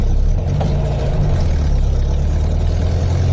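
A loud car engine idles with a deep, steady rumble that barely changes, close by and with no voices.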